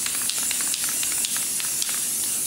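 Clear coat sprays steadily from an aerosol can, a constant close hiss across the whole stretch with small pulses and sputters, no voices.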